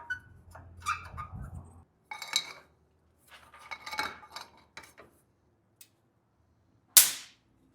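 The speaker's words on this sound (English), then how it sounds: "That was the bug killer." An electric bug zapper gives one sharp, loud crackling snap near the end as it kills an insect, after quieter clinks and clatter of tools being handled.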